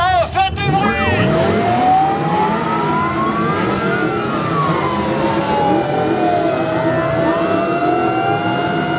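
Cars gathered at a European meet of film-star vehicles blast sirens and engines together at a parade, producing a loud, overlapping din of wailing, sweeping sirens and engine noise with a crowd's voices mixed in.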